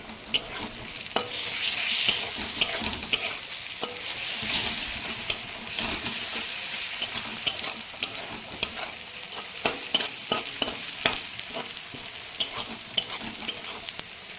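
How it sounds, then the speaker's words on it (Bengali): Ground turmeric, cumin, coriander and chilli powder sautéed in oil in a pan for egg curry, a continuous sizzle with repeated scraping stirs of a spatula and occasional clinks. "হলুদ গুঁড়ো, জিরে গুঁড়ো, ধনে গুঁড়ো, লঙ্কার গুঁড়ো, সেইগুলো দিয়ে ভালোভাবে কষাতে হবে যতক্ষণ না তেল ছাড়ে"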